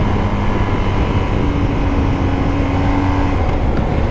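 A BMW GS travel enduro, its 136 hp engine pulling a steady 110 Nm of torque, holds an even, mid-pitched droning note throughout, close and loud with no voices over it.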